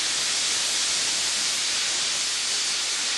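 A steam locomotive on the Westrail Galway to Athenry run in 1992 releases a loud, continuous, broad hiss of steam, steady and close for the whole stretch.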